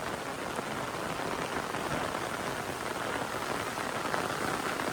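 Steady rain pours over the Konkan countryside on a morning out with cattle, a dense, even hiss of drops on surfaces that holds unbroken and fairly close throughout, with no voices.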